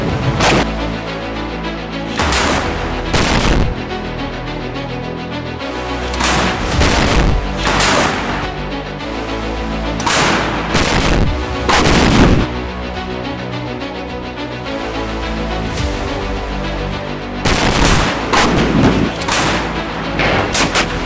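A PZH-2000 self-propelled howitzer fires in repeated heavy blasts, about a dozen loud booms in an irregular sequence. Each shot is followed by a rumbling tail, with no talk over it.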